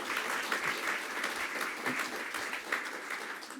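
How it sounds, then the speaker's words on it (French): Audience applause thanking four speakers at the close of a panel on sustainable, smart cities: dense, steady clapping from a crowd that holds an even level for several seconds without talk. "J'aimerais qu'on applaudisse pour remercier nos 4 intervenants"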